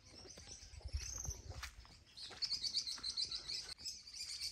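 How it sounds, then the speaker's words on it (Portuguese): Birds singing at dawn on a farm, a faint but steady chorus of chirps and tweets in a quiet outdoor setting, with no talk. "que só se ouve os passarinhos, um silêncio gostoso."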